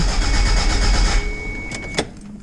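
A built Toyota MR2 with a swapped engine and zero oil pressure cranks over without firing: a loud, steady starter whir for over a second, then it cuts off, with a sharp click as cranking ends.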